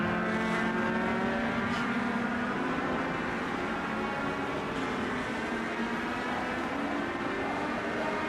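Race cars in a sim racing league's preseason race roar continuously with two laps to go, a thick sustained engine drone with layered harmonic whine and faint tire noise, even and loud, no talking.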